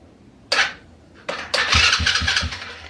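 A small 110/125cc quad bike engine cranks with a short burst, pauses, then catches and sputters into a rough, pulsing run close by.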